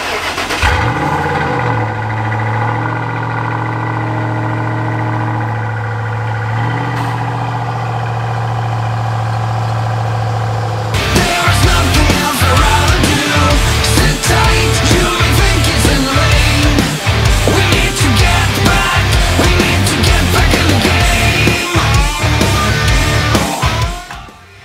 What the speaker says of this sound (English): Go ahead and do a little cold start on the old GT.